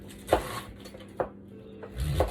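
A knife slices through cabbage being cut for sauerkraut, with four crisp, separate cuts spaced unevenly and heard up close in a quiet kitchen.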